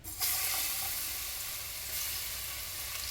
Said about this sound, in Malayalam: വെളുത്തുള്ളി ഇട്ടു ജീരകം ചതച്ചത് കുരുമുളക് ചതച്ചത് ഇട്ട് കൊടുത്തു